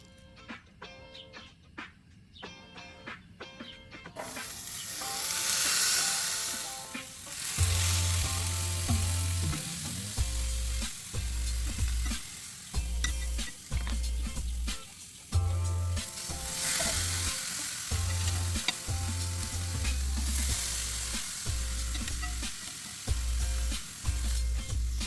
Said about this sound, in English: I'm gonna place my pork chops onto the barbecue.